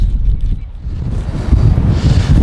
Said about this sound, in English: the wind is a bit of a challenge today